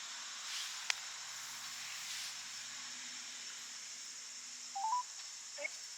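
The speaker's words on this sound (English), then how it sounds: "I'm literally gonna push every number." Telephone number keys pressed one after another, giving short DTMF tone beeps near the end, faint over a steady hiss with no talking.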